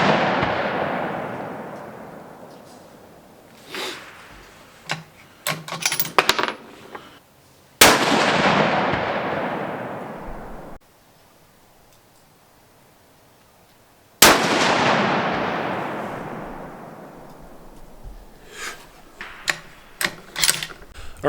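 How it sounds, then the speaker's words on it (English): Rifle shots from a factory Savage 12FV in 6.5 Creedmoor at a cold outdoor long-range setup, two loud sharp cracks each followed by a long rolling echo that fades over several seconds, with scattered clicks and handling noises between. "All right, so we took a couple shots."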